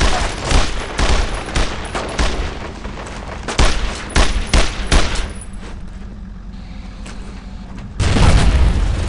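Gunfire and booming blasts in the World War II shooter Brothers in Arms: Road to Hill 30, a loud sequence of rifle and machine-gun bursts that eases off briefly before a heavy explosion near the end.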